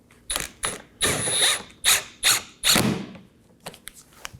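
A ratchet snugs down 7mm bolts at the mud flap and corner of a 2018-2024 Chevrolet Equinox bumper, clicking in several short, close bursts with brief pauses between strokes.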